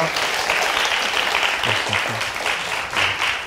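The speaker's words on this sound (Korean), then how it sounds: "우리 부산대학교 정보컴퓨터공학부 최윤호 교수님께 다시 한번 큰 박수 부탁드립니다" Audience applause for a professor of information and computer engineering after a science lecture, a steady wash of many hands clapping at moderate volume while a host speaks over it.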